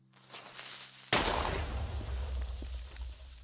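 A sudden sharp explosion in Minecraft bursts out, then trails off into a rumbling, crackling decay over a couple of seconds.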